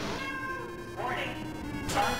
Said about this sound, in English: Oh shit, so that's a cat.